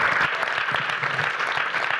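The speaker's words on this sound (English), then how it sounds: "Jessica Hagedorn and Viet Nguyen, another round of applause." Audience applause after a literary reading and discussion, a dense steady clapping that fills the whole stretch at moderate volume with no voices over it.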